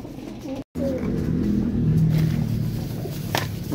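Pigeons coo in low, soft, repeated phrases over a steady background hum, with faint distant traffic underneath.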